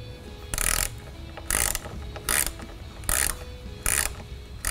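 Ratchet wrench loosening the roof-panel bolts on a Jeep Gladiator top, five quick bursts of bright clicking spaced about a second apart over a low steady hum, close and fairly loud, with no talking.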